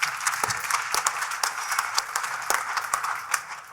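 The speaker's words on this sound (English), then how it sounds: "Let's give him a round of applause." A short burst of applause from a crowd, scattered claps over a steady patter, moderately loud and without voices.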